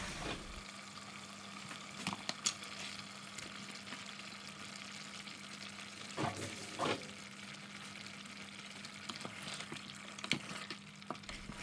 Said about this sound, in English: Now let the fish cook for about a good 5 minutes so it really absorbs the spices